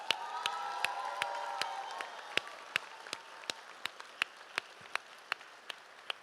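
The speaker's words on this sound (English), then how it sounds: "another round of applause" Scattered applause from a college graduate hooding ceremony crowd, thin and fading, punctuated by sharp individual claps and a few shouts near the start, moderately distant.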